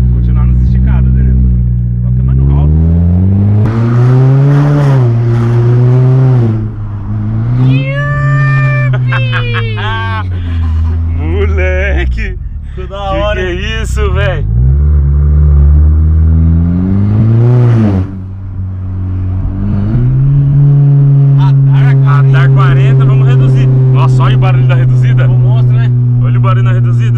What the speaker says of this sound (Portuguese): você dá aquela mandada no acelerador e abaixou a marcha